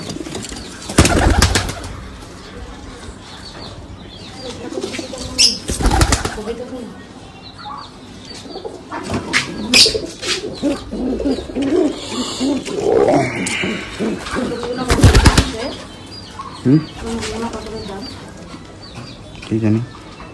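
Pet pigeons are released from a backyard enclosure in Bangladesh. Loud, sudden bursts of flapping wings rise up near the listener, and people talk over the commotion in the background.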